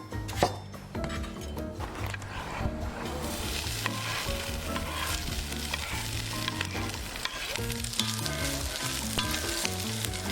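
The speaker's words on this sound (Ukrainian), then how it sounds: "Трошки витоплюємо жир. Робимо такі шкварочки. Сьогодні будемо смажити на смальці." Diced pork fat renders and sizzles in a cast-iron pan over an open fire, with a dense, steady crackling fry and occasional clinks of a utensil stirring.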